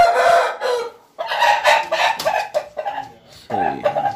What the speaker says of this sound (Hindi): ये थाईलैंड का प्योर थाईलैंड का मुर्गा है ये